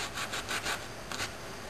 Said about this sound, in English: What I'm going to do is come up here and start scrubbing.